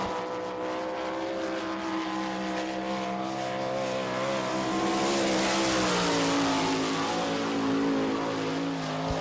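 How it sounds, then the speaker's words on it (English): Sprint race car with an Eagle chassis and Foxco Racing engine at full throttle around a dirt oval, All Star Circuit of Champions at Barberville, Florida; a loud, sustained engine roar and whine that swells midway through the lap, with no voices. "It's an Eagle chassis and a Foxco Racing engine."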